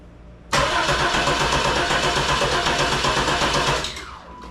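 Third-generation Chevrolet Camaro engine cranking over on its starter with no fuel pump, a loud, steady rhythmic churning that starts abruptly and runs for about three seconds before winding down, close and alone.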